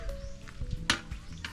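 Food sizzling in a frying pan at a home cooking spot, a soft steady crackle broken by a few brief louder clatters and stirring knocks, fairly close, with no talking.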